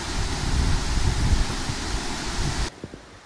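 Hyatrung waterfall in Terhathum, Nepal, one of the country's tallest, roars as a dense, steady rush of falling water heard close by, then drops abruptly to quieter background sounds.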